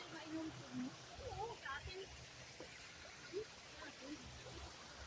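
A clear mountain stream flows at the start of a hiking trail with a faint, steady rushing wash, while people talk over it.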